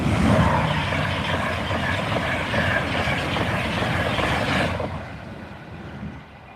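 A train rushes past the Oster Fen level crossing in Lincolnshire, a loud, steady broadband roar with rhythmic wheel clatter that holds for several seconds, then drops away sharply as the last cars clear.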